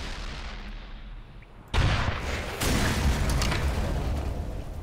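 A tank blows up in Black Mesa: after a low rumble, a sudden loud blast strikes, and a second heavy boom follows within a second, leaving a roaring, crackling aftermath.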